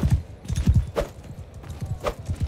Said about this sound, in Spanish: El caballo no corre mal.